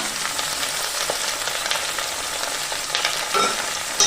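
Cabbage mash ingredients with tomato, salt and green chillies sizzle steadily in a hot pan while a spatula stirs and scrapes through them, with no talking.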